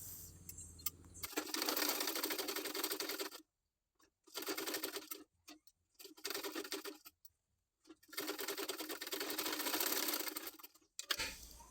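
A sewing machine stitches a blouse latkan in four rapid whirring bursts, close and clear, with short silent pauses between runs.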